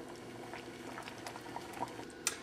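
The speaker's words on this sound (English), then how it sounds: "turn down the heat and let our mutton pieces simmer in this gravy for another 10-15 minutes" Mutton curry simmering in a coconut milk gravy over lowered heat, a steady soft bubbling and popping of thick liquid, quiet and close, with one slightly sharper pop near the end.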